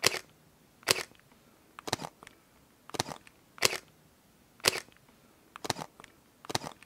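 A Leica M10-R rangefinder camera fires its quiet shutter eight times at a slow, even pace, each soft, crisp click standing alone and close in an otherwise silent room.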